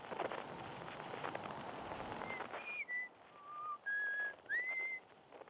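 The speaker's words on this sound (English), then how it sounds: "Whistling." Someone whistles a faint, wavering tune in the video game Outer Wilds. The short melodic phrases come after a stretch of soft rustling, footstep-like ambience.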